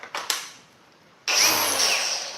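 A power tool grinds seam sealer off a Chevy cab corner: a few short taps, then a sudden loud, steady whine starting at about midway and holding close to the end.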